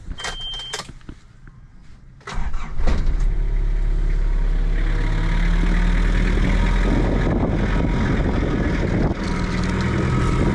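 A few clicks and rattles, then an engine cranks and catches, settling into a loud, steady rumbling idle.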